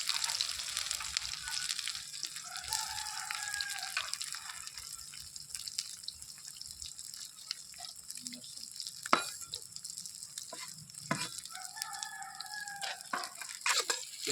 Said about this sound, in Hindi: प्याज पूरा भून गया भाई